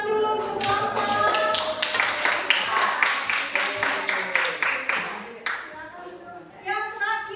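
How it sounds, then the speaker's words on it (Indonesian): An audience claps for a group after its presentation, bursts of close applause with a few individual claps standing out, and voices are heard over it. "Ya, tepuk tangan dulu untuk kelompok."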